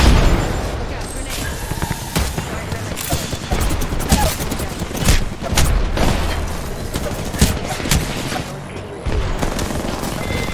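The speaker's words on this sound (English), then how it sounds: "Look out, grenade." A grenade explodes in Apex Legends amid a dense, loud stretch of gunfire and booming blasts that runs almost unbroken, with bursts of rattling shots throughout.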